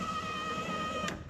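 An electric power window motor on a truck's passenger side whirs steadily as it raises the glass, a quiet close hum with a slight clunk near the end.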